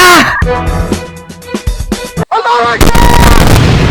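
Booming blasts and bursting pops from Roblox game action, with loud music-like tones and a voice talking over much of it, a brief drop near the middle.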